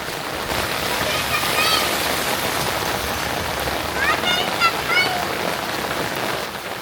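Steady monsoon rain pours over a Punjab village, a dense, even hiss of drops hitting the ground, with faint voices talking in the background.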